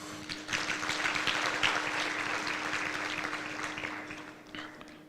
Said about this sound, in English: Members, please, a big hand clap.